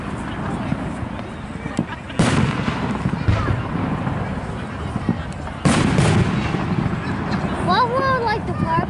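Fourth of July fireworks over the Peekskill riverfront burst in heavy, rumbling booms amid continuous crowd noise, with a couple of loud detonations standing out and a whistling shell rising near the end.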